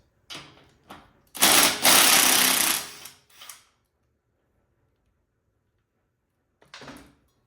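Rear brake caliper bolts on a Janus Halcyon 250 motorcycle being removed with a 13mm socket, a few short ratcheting bursts, one longer loud run, then silence and a final brief click.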